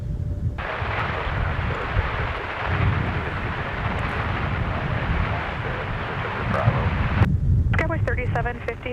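A SkyWest airliner departs MSP airport, a loud sustained jet roar of takeoff thrust rumbling for several seconds before cutting to air traffic control radio chatter at the end.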